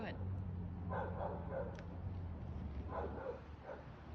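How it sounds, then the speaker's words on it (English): A dog barks somewhere off at a distance, a few faint barks spaced apart under steady outdoor background noise, with voices also present. "that's somebody else's dog barking all day too"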